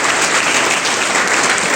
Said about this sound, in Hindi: तो मोनू के लिए जोरदार ताली बजाओ एक बार।